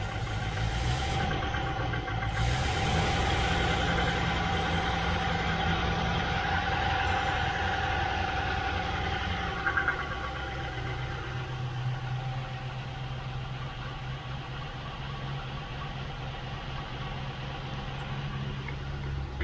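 A 1972 Range Rover engine runs steadily at idle throughout, a continuous mid-pitched mechanical drone with little sign of revving, heard close and alone.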